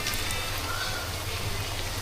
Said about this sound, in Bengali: তো পিঠাগুলো দেওয়া দেওয়া হলো কিছুক্ষণ পর মধ্যে ভাজা হয়ে যাবে আশা করি